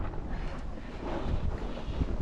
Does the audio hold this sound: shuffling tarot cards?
no